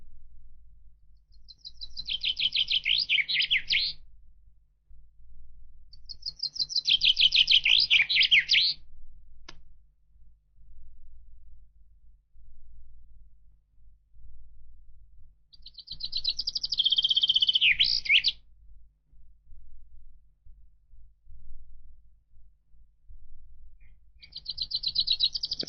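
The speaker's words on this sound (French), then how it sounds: "Plus vigoureuses et sonores sont les trilles du pinson." A chaffinch sings vigorous, ringing trills in four separate phrases, each a bright descending run ending in a flourish, over a low steady rumble of background noise.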